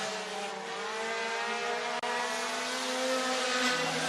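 Race cars at Clarksville Speedway in Tennessee roar continuously at high revs around the oval, a loud, sustained engine drone with layered harmonics and no talking.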